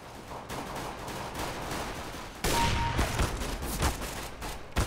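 AWP sniper rifle fire in the video game Counter-Strike: Global Offensive, a sharp burst of gunfire cracking out midway over quiet game ambience, followed by a few fainter impacts.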